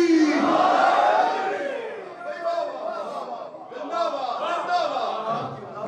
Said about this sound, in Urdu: مل کے نعرے حیدری.